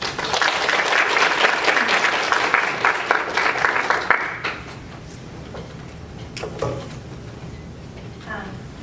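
Audience applause welcoming a speaker at a conference on women in surgery, a dense crowd of clapping that fills the first four seconds and then cuts off, leaving a quiet room with faint shuffling and a few small knocks.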